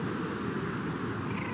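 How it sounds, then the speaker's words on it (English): A cat meows in a video game, a drawn-out yowling cry that is hard to pick out, buried in dense, constant game noise for about a second and a half. "Wait, I hear a cat."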